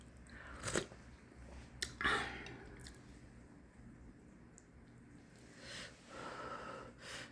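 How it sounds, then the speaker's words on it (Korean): Soft wet chewing of rice soaked in beef brisket doenjang soup, close to the mic with a few squishy bites and smacks over a quiet background. "밥 말아서 먹으면 맛있어요. 차돌박이 된장국에다가"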